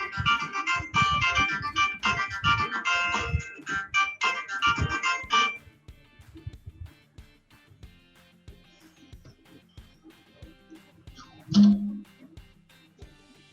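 A melodic phone ringtone plays loudly for about five seconds, then stops, leaving quiet room sounds and a brief thump.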